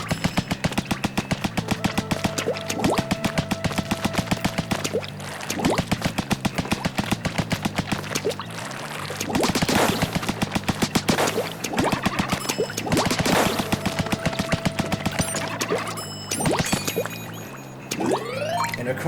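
Inkzooka special weapon firing in the video game Splatoon, a loud, rapid run of repeated blasts with splashy, wet ink bursts, continuous and close with brief pauses.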